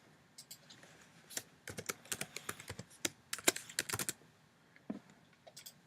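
Rapid bursts of keystrokes on a computer keyboard while entering text, close and crisp, with irregular clusters of clicks and short pauses and no voices.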